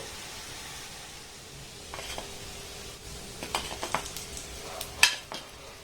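Fried kala jamun sweets made from wheat flour lifted out of hot oil, a slotted spoon clinking and scraping against the pan in a cluster of close taps over a faint sizzling hiss.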